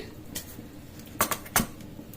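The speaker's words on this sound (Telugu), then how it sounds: "ఇది సామాన్యంగా కడాయి పెట్టుకోవాలి" A kadai wok is set down on a stove with a few sharp metallic clanks and clatters, two louder knocks close together near the end, with no talk.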